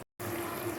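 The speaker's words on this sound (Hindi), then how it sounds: "अब मैं इसके अंदर पानी डाल देती हूँ तकरीबन 1 गिलास के जितना" About a glass of water pours into a pot of minced beef for kachri qeema, a steady splashing rush starting suddenly after a brief gap, close and moderately quiet, with no talking.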